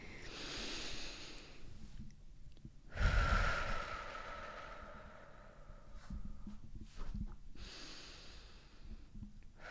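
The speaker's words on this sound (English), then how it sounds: "let's just start with 3 deep breaths." A person takes slow, deep breaths, with audible inhales and exhales close to the microphone in a quiet room. No one speaks.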